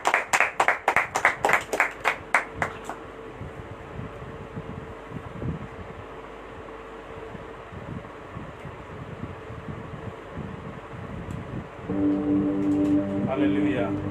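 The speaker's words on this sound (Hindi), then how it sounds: "आइए फिर से ताली बजा करके उनको स्वागत करें।" At a Sunday church service, a congregation claps together in a steady, rhythmic burst of welcome for a few seconds before it fades into a quiet, hall-like room tone.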